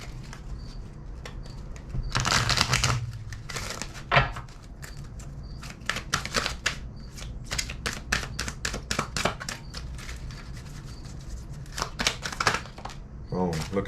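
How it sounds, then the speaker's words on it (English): Archangel oracle cards are shuffled and pulled, giving a run of crisp, rapid card riffles and flicks close by in repeated bursts, with a voice speaking between them. "I'm going to go ahead and pull these Archangel cards"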